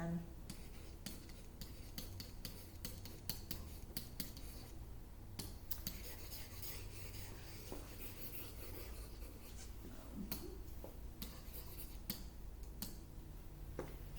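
A pen scratches and taps on a classroom board during an algebra lesson, giving quiet, intermittent strokes and clicks over a faint background hum.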